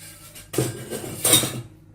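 A Yorkshire pudding tin goes back into a kitchen oven: two quick metallic clanks and scrapes of the tin on the oven rack, close and moderately loud, with quiet between.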